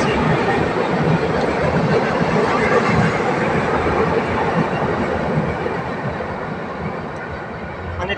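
A passing train produces a loud, continuous rumbling roar with dense rattling, close by and steady throughout, easing slightly toward the end, with no talking over it.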